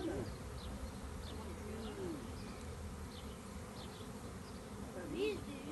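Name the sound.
swarm of about 20,000 honeybees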